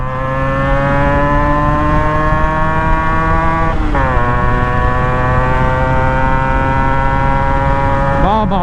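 A Yamaha RXZ motorcycle engine runs loud and close, a steady, buzzy two-stroke drone that briefly dips and recovers twice, with a quick blip of the throttle at the end.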